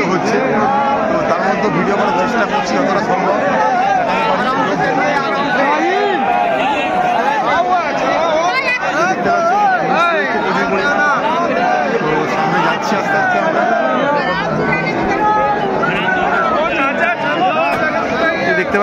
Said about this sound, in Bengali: বিশাল ভিড় রয়েছে